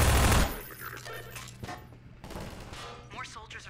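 Enemy turret firing in the video game Half-Life 2: a loud burst of rapid gunfire at the start, then quieter scattered shots and combat noise underneath.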